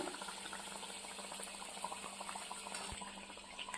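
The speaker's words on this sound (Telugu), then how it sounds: "ఇవైతే మంచిగా పొంగి కాలుతున్నాయి కదా." Ragi burelu, sweet finger-millet dumplings, bubble and sizzle steadily in hot oil in a kadai, a dense continuous frying hiss with no voices.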